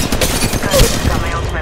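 Rapid gunfire in Apex Legends Mobile crackles in a dense, loud stream of overlapping shots, near and continuous across the short moment.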